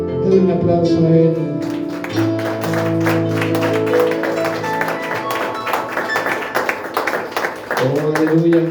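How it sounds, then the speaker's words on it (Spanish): A congregation claps during a Saturday couples' meeting at church. Rhythmic clapping builds and carries on under music and singing, with a voice leading over it. "Dale un aplauso a Él"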